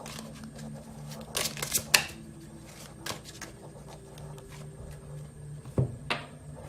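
Tarot cards shuffled by hand in a few quick riffling bursts, close and fairly quiet over a low steady room hum, with a couple of brief papery flicks near the end.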